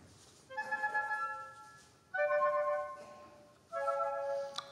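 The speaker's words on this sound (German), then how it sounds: "Das machen die Holzbläser, das klingt so." Woodwinds of the Munich Philharmonic play three short shimmering phrases, each a bright held chord with trilling, glittering upper notes, separated by brief pauses.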